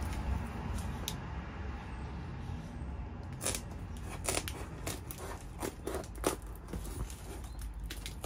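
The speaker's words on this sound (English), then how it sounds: "So we're going to cut a rough arch shape." Sound deadening material is cut into a rough arch shape during a VW Transporter 6.1 van conversion, a run of quiet, sharp snips scattered irregularly over a soft background hiss.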